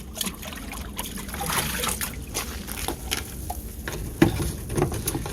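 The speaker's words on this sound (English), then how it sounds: "And I always rinse out the cup." Water splashing and trickling as a plastic measuring cup is rinsed out after pouring BioClean cleaning solution for a MemPro 350H reverse osmosis unit, a steady close-up patter with a few sharper splashes and no talk.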